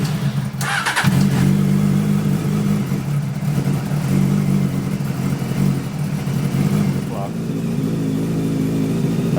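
Cafe racer motorcycle engine catching and settling into a lumpy mid-pitched idle with a blip of revving partway through, loud and close, with people talking over it.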